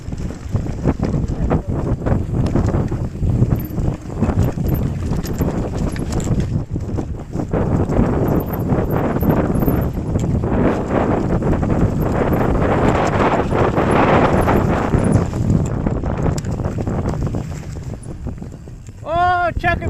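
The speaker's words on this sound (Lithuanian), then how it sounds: "Baisus tas vėjas." Strong wind buffets the microphone while cycling outdoors on a ride, a loud continuous rumble and roar throughout, with a rider talking over it.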